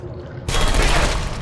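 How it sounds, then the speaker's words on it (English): Sustained burst of automatic gunfire from a turret shooting at the player in a video game, erupting suddenly after a quiet moment and roaring loud and continuous to the end. "That turret over there, he will shoot at me."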